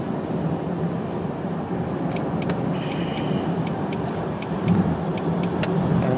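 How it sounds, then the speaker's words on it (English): A 2002 Jaguar X-Type on the road produces a steady, broad road and engine rumble from inside the cabin, with a few faint ticks and clicks over the continuous drone. "Today this is a Jaguar. A Jaguar X-Type 2002."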